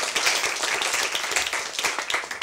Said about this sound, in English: A round of applause for the question and answer.